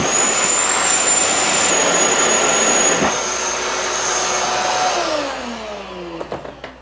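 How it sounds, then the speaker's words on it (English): A shop vac hooked up on its blower side pushes a loud, steady whoosh of air with a high whine into a tank to clear gas fumes, then winds down near the end as a few clunks follow. "you hook up the blower side of a shop vac, and you put it in here to blow out any gas fumes"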